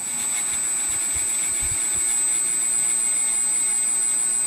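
A disk grinder motor runs at 1800 RPM with a steady, smooth whir and a high whine, loud and unbroken from start to finish.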